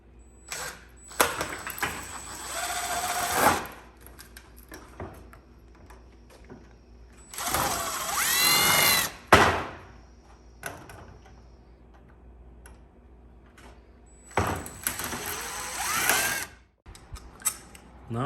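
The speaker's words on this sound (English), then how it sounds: "Pre-drill the holes." A power drill pre-drills holes in polycarbonate panels for an automatic window installation, three separate bursts of whining drilling a few seconds apart, with small clicks and handling noises in the quiet gaps between.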